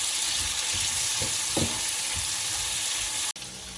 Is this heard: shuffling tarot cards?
no